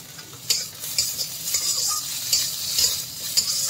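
Jhumpudi saag greens frying in a pan, soft sizzle under repeated rhythmic stirring scrapes about every half second, close and fairly quiet with no voices.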